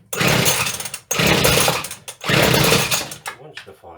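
A Partner T240 petrol strimmer on half choke starts up: three loud, rough engine bursts of about a second each, broken by brief gaps, then the engine sputters and fades.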